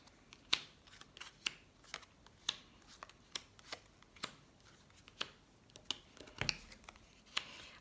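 Tarot cards are drawn and laid out one at a time, making quiet, crisp snaps and flicks at an uneven, fairly steady pace, close by and soft.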